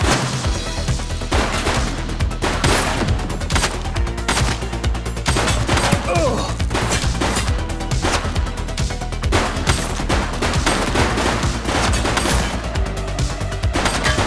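Sustained gunfire from a police crime game, with dense rapid bursts and repeated shots layered over a loud, continuous action soundtrack throughout.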